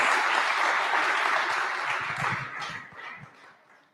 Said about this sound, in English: let's give Limoni Restaurant and Kurtaba Boutique Hotel a wonderful round of applause